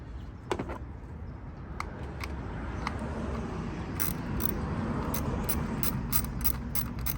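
Ratchet wrench working a bolt loose in the engine bay of a Dodge Charger 3.6 V6 during spark plug removal, a steady rapid clicking run with sharper clicks bunching near the end, close and moderately loud, no talk.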